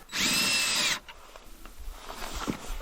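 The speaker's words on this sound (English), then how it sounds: "Let me just get a couple of screws started." A power drill drives screws into old recycled wood boards while building a ground feeder hay box. It gives one loud, close, steady whine lasting about a second, followed by quieter handling knocks and rustles.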